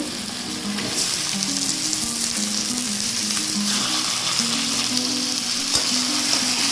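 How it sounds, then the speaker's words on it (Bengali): Chicken pieces fry with onion and garlic in a pan for dhaba-style chicken kosha, a loud, continuous sizzle that stays close and steady from start to finish with no talking. "মাংসটা পেঁয়াজ রসুন ভাজার সঙ্গে ভালো করে ভেজে নেব"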